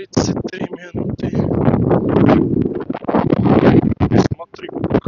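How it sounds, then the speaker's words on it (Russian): Strong gusts of wind on a Yalta beach in Crimea in February rumble and buffet the microphone in loud, uneven surges. "Смотри, какой ветер"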